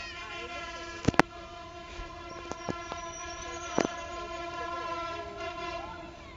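A train runs along a railway track with a sustained, droning horn-like tone throughout, punctuated by a few sharp metallic clanks; the sound is fairly distant and steady rather than close.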